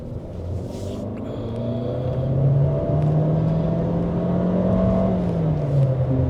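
A Chery Tiggo Cross SUV engine hums and rises in pitch as it accelerates, with a gear change in manual mode, a steady close drone from inside the car.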